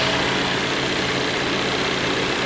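A 2019 VW Jetta's 250 TSI 1.4 turbo flex-fuel engine idles under the open hood, a steady, even hum with continuous mechanical whir and no change in pace throughout.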